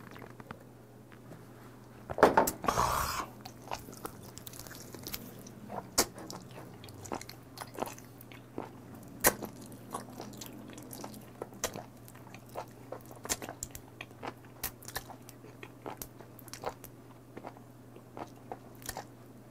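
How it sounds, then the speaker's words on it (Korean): Close, wet chewing of sliced raw live mud octopus, with one loud crunchy bite near the start followed by steady soft smacking and squelching for many seconds, no talking. "그래서 꼭꼭 잘 씹어야 돼요."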